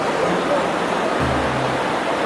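Cold mountain waterfall in the mountains of Yakutia near Khandyga: a loud, dense, continuous roar of falling water, close by, with a voice briefly speaking under it.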